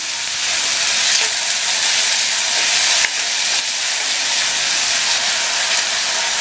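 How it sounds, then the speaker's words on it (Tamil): Tomatoes and onions saute in hot oil in a pan for chapathi side dish, giving a steady loud sizzling hiss throughout with a brief dip midway, and no talking. "நல்லா எண்ணெயிலேயே வதக்கி விட்டுட்டு மூடி போட்டுடலாம்."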